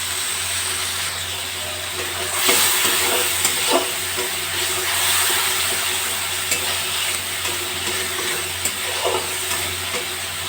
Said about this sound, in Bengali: এবার এই মশলাটা আমি দিয়ে দেবো টক দই কাজু বাদাম কাঁচা লঙ্কা আদা বাটা